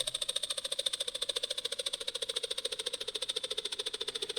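A resampled, down-pitched rattle layer over a sustained tone pulses in a fast, steady buzzing rhythm, a dense mechanical flutter with a ringing tonal edge, heard alone.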